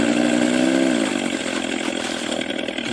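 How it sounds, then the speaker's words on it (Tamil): Ola electric scooter running its simulated motor sound in the Move 3.0 software, a loud steady synthetic whine that climbs in pitch with the throttle and then levels off, heard alone with no talk. "இந்த த்ராட்டில் எப்படி எவ்வளோ கொடுக்குறோமோ அதுக்கேற்ற மாதிரி அந்த சவுண்ட் வந்து இன்க்ரீஸ் ஆகும்."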